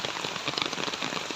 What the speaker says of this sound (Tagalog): Grabing uwan ng kusuga.